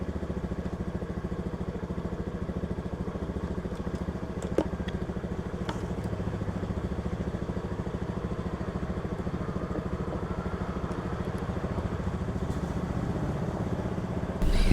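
A Honda Scoopy scooter with a charging-regulator wiring fault idles steadily up close, its engine a constant mid-pitched putter with a brief lift at the very end; no one speaks.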